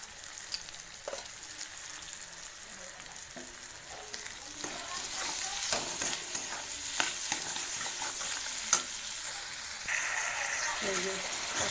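Ghugni masala with chopped chili and salt sautéing in a pan, a steady close sizzle and fry with scraping stirs and occasional clinks, while someone talks over it.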